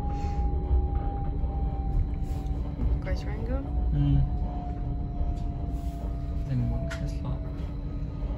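A train rumbles along at a steady low roar from inside a carriage, with a faint whine and an announcement that it is approaching Great Yarmouth, where it terminates.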